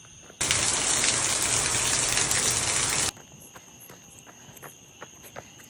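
Steady rain hisses loud and close on a wet evening, a dense wash that cuts off abruptly after about three seconds, leaving quiet ambience with faint insect chirps and scattered small ticks.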